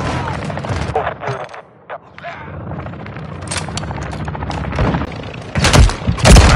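Gunfire and explosions from the shooter game Modern Warfare 3, with loud repeated shots and heavy booms across the whole stretch and bursts of automatic fire, swelling into a dense barrage near the end.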